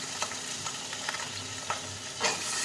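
Hot oil fries in a pan, a continuous close hiss of sizzling with a few soft crackles and pops scattered through it, steady and moderately quiet.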